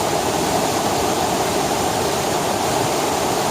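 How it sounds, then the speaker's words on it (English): Heavy rushing water pours steadily down through a fresh green forest, a loud, continuous broadband roar with no pauses, close by and alone with no voices. "that's the most water I've seen coming down here so far"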